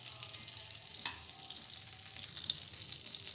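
Ghee heating in an emptied kadai after sesame seeds were roasted, giving a steady, faint sizzle with a soft stir or scrape near the one-second mark and no voices.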